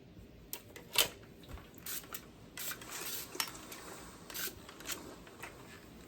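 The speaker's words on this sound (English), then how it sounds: "Just trim your thread off." Thread being trimmed with scissors during dressmaking: a few quick, crisp metallic snips and light rustling close by, with no talking.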